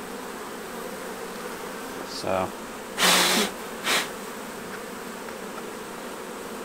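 A dense, steady hum of many honey bees buzzing close by as they are shaken out during queen banking, broken by a few short clattering bursts and a single brief spoken word.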